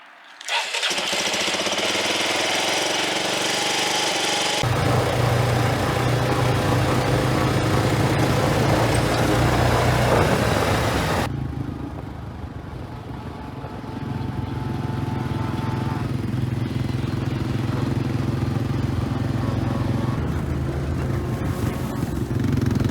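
A Honda FourTrax 400 ATV engine starts and runs steadily while being ridden, a loud, close, continuous rumble that shifts in tone partway through, with no talk.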